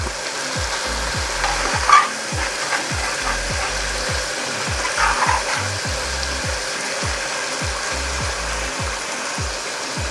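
Prawns frying in a pan and stirred steadily, with a constant sizzle and a regular scraping rhythm of the spatula repeating about twice per second, close and clear with no talk.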